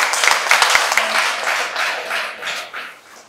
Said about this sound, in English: A round of applause for RAPA.